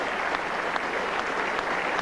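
A cricket crowd at a 1975 England v Australia Test match at Headingley applauds a departing batsman with a sustained, even wash of clapping that fills the whole stretch.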